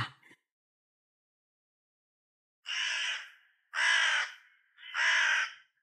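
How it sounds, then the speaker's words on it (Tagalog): Crows caw three times in a row from a tree near a house, loud harsh calls spaced about a second apart, preceded by a brief faint sound and silence between. "Nagulat ako nang marinig ang mga uwak na nagliparan at dumapo sa punong kahoy malapit sa bahay nila"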